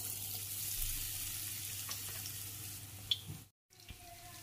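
Bread and onion snacks frying in oil in a kadhai, a steady soft sizzle with a few faint clinks, then a brief silent break before frying resumes.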